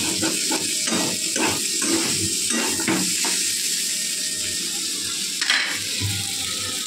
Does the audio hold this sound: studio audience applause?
no